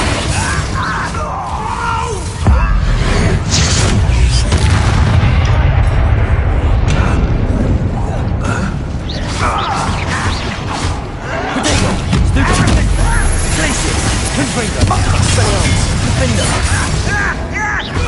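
Spell blasts crack and boom amid combat in the video game Hogwarts Legacy, with bursts of crashes, thuds and shattering impacts coming in rapid waves while voices call out throughout.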